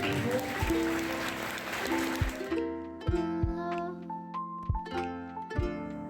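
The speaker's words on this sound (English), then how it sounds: "So have a clap for them as well." Brief clapping from a university drone workshop audience for a couple of seconds, then giving way to a rhythmic tune with plucked notes and drum hits.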